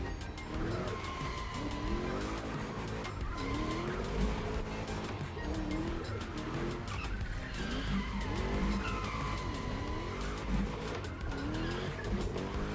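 A car in a racing video game drifts with long, wavering tire squeals and skids over a droning engine, continuous throughout, loud and up close.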